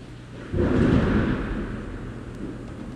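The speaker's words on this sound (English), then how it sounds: "I don't know if y'all heard that lightning." Thunder from a lightning strike rolls in loud and close, with a sudden deep crack swelling into a long, fading rumble over steady rain-like background noise.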